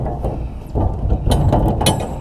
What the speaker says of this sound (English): Let's open the doors again here just to check the clearance.